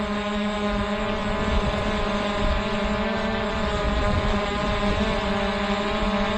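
DJI Air 2S drone flying, a steady, continuous propeller whine with harmonic tones and broadband rush, holding even and fairly close throughout with no voices.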